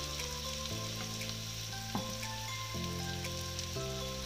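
Onion and garlic frying for duck adobo in a pan, a steady broadband sizzle running the whole time with a faint hum of tones underneath, no voices.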